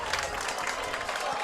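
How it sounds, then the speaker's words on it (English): A home crowd at a Loyola varsity homecoming football game against Notre Dame cheers and applauds in a steady, dense roar that holds throughout, with mixed voices blending into a broad wash of noise. "This Loyola crowd is really happy that knowing that their team is back in the game"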